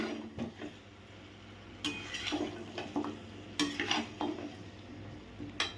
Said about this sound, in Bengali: এবার আমি দিয়ে দেব ভেজে রাখা আলু। ভেজে রাখা আলুগুলো দিয়ে দিলাম।